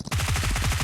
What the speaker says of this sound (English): My horse follows you and I shoot, bro.